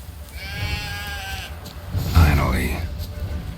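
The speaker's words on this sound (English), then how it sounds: "How do you call a sheep? Here, sheepy sheepy? Hey sheep, come here." Sheep in The Witcher 3 bleat a couple of times, a wavering nasal call early and another louder one midway, while someone talks over the sounds.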